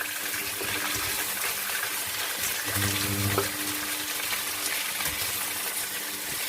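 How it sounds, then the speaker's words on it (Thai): Black tiger prawns stir-frying in a home kitchen pan, a steady broad sizzle with wet bubbling and a few scraping stir sounds, close and continuous without talk. "ใส่กุ้งกุลาดำลงไป ผัดให้สุกนะคะ"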